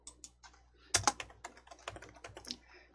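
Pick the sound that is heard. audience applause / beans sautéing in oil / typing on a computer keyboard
typing on a computer keyboard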